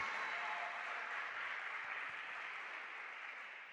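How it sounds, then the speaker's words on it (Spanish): Steady applause from a church congregation clapping for the Lord, a dense continuous wash of many hands that holds evenly and then slowly tapers, with no voices over it. "Dale un aplauso al Señor."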